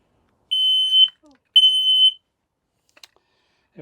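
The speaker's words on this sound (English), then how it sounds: "Test the alarm." Two loud, piercing electronic tones from a smoke or carbon monoxide alarm being tested, each lasting about half a second with a brief gap between, followed by faint clicks and handling noise.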